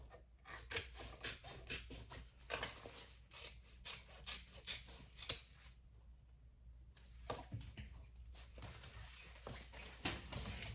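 Scissors snip away excess fabric while a crossbody bag is being made, a close, quiet run of rhythmic cutting and rubbing strokes with a brief pause midway.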